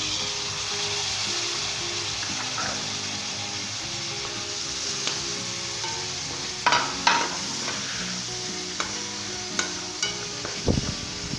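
Fresh tomatoes cooking in a pan, a loud steady sizzle and hiss throughout, with a few sharp clacks and scrapes of a spoon stirring toward the end, close up.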